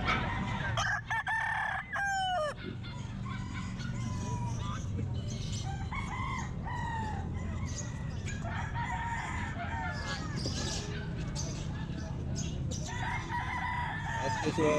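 Roosters crow repeatedly at a busy pet market, some calls near and loud, others farther off, with clucking fowl and a murmur of background chatter underneath.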